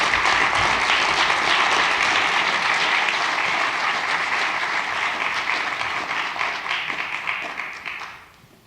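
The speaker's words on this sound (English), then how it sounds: "But let's give our panelists a round of applause." Sustained audience applause for conference panelists at a Utah history conference, dense steady clapping that holds loud for most of its length before thinning and fading out at the end.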